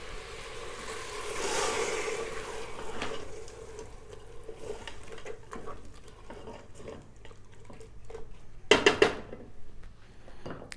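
Tomato paste mixture for an aloo mutton curry being stirred in a cooking pot, a spoon scraping and clinking against the metal at a steady pace, with a sharper clatter near the end and no talking.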